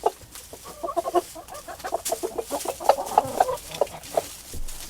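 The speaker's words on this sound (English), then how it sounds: "he's doing his little call," A Chantecler rooster, a cold-hardy northern chicken breed, gives a run of rapid, rhythmic clucking calls to gather hens, close and fairly loud, with occasional louder notes and no talk over it.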